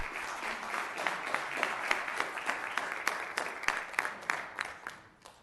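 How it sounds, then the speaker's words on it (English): Audience applause at a city council meeting, a steady wash of many hands clapping at moderate distance that thins out into a few scattered louder claps before fading at the end. "Can we save our clap until the end?"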